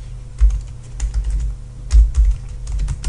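Rapid, close keystrokes on a computer keyboard as a spreadsheet formula is typed, uneven clusters of taps with no talking.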